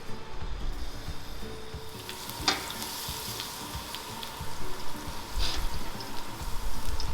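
Garlic frying in hot oil gives a steady, close sizzle throughout, with a couple of brief louder crackles and spits along the way, and no voices.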